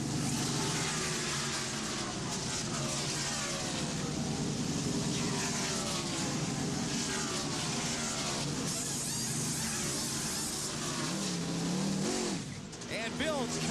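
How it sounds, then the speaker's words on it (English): Bill Elliott's NASCAR race car in a pit stop, the engine roaring loudly and steadily with revving surges and air-gun bursts, then cut off near the end; a voice talks over it. "Let's just listen into the sounds of a pit stop in action."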